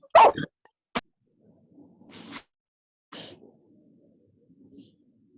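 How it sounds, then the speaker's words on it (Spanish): A dog barks a few times at a distance, short separate yaps with quiet gaps between them, faint against a still room. "alguien está ladrando ahí"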